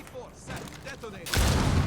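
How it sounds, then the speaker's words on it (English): A C4 charge detonates in the Rainbow Six video game, a sudden loud, broad blast that swells in after a quieter stretch of game sounds and the player's voice, then holds as a dense roaring rumble. "C4 set. Detonate."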